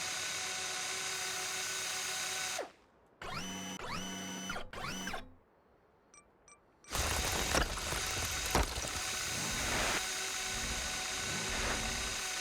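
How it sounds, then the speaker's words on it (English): Drill head machinery whirs and grinds in the Mars First Logistics video game, with loud mechanical running that stops, restarts in short bursts with rising servo tones, then resumes as a continuous rumbling grind. "I want to turn the drill head on and then switch to the different servos and move the drill head around"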